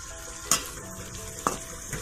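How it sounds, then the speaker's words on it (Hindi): Onions sizzle gently in a pan on the stove for okra with achari masala, a soft steady frying hiss broken by two or three sharp stirring clinks of a utensil against the pan. "और प्याज को उस वक्त तक हम भूनेंगे कि इसका थोड़ा कलर चेंज हो जाए, हल्का सा गोल्डन ब्राउन इसको हम करेंगे"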